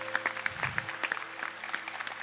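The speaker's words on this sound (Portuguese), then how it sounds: "Pode aplaudir a palavra." A Catholic congregation gives sparse, distinct claps in church, fairly soft, over a steady background hum of music.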